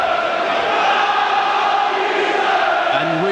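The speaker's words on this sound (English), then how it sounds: "we can really hear the Tottenham crowd now" Large Tottenham crowd singing and chanting at a 1988/89 league match away at Charlton Athletic, a steady, dense roar of massed voices echoing through the stadium, with no commentary over it.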